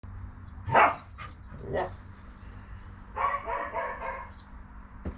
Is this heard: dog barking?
yes